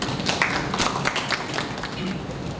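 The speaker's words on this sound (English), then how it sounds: "Could we please have a round of applause for him?" A hall audience applauds the keynote speaker at a Patna food-waste event, a dense crackle of many clapping hands that holds fairly even throughout, with some voices underneath.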